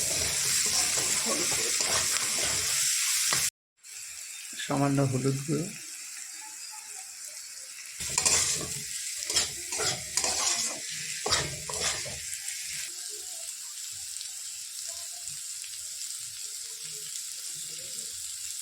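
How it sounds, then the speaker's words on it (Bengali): Capsicum, beans and potato for pasta sizzle in a pan while being stirred, with scraping, clattering spatula strokes over the frying hiss; someone speaks briefly and there is a short dropout near the start. "ক্যাপসিকাম বিনস সবগুলো ভাজা ভাজা হয়ে এসছে।"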